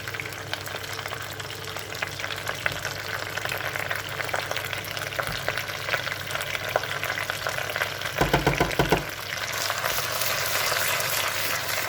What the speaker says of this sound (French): Le concassé de tomate qui est en train de cuire tranquillement